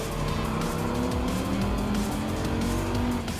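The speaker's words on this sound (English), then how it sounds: "Get my Dodge Viper to go speed up and do the old-fashioned way of Gran Turismo racing." A Dodge Viper race car engine in Gran Turismo 7, a loud, steady, high-revving drone with a slowly rising pitch, heard from close by as the car speeds along, with no voices.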